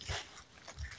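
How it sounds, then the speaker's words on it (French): A dog whimpering and yipping on a short walk, two faint brief whines close by in a quiet setting. "c'est un chien."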